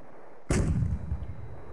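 A single explosion in Command and Conquer Remastered, a sharp booming blast after near silence that trails off into a rumbling decay.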